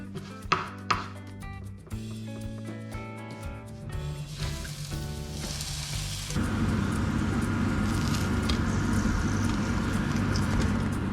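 Crab cakes made from spider crab fry in a pan, starting with a few knocks and a low hum before a steady, loud sizzle sets in and runs on continuously without any talking.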